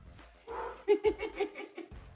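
Several dogs bark indoors in a quick run of five or six sharp barks, moderately near, with someone talking over the start and end of the barking.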